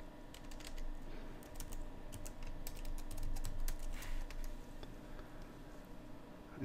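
Rapid, uneven tapping of a computer keyboard as an administrator name and password are typed, close and moderately loud over a low background hum, with brief pauses between bursts of keystrokes.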